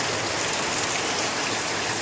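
Heavy rain falls at a market, heard from under a tree as a constant, dense hiss of drops on surfaces, loud and unbroken throughout.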